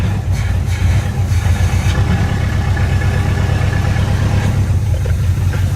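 A loud engine roars steadily with a heavy low rumble and no pauses, running hard and close by.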